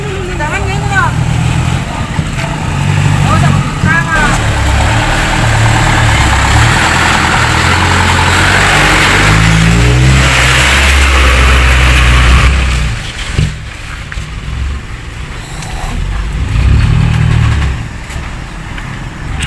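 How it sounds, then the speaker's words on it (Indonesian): Car and truck engines idle and rev in a long traffic queue on a rough road in Indonesia, a loud continuous low rumble with rising and falling revs, heard under people talking. "Antrian panjang, guys. Ini lagi mobil nih."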